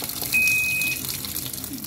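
Water gushes steadily into the tub of a Sharp automatic washing machine, a close, constant rushing fill with a faint beep in the middle.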